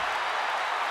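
Video game wrestling arena crowd from WWE 2K20 roars and applauds in a dense, steady wash of cheering for the whole second.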